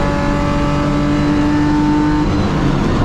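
BMW race cars in a class D circuit race drone loudly with a sustained engine note, holding a steady pitch before it shifts as they pass, no talk over it.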